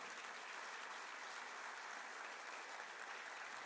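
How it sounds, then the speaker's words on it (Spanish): A church congregation claps for the Lord at a sermon: a faint, distant, continuous patter of many hands, steady and unbroken, with no speech over it. "Dele un aplauso al Señor fuerte"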